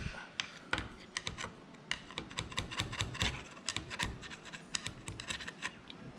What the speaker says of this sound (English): So if I get a pick in there, I should be able to get that.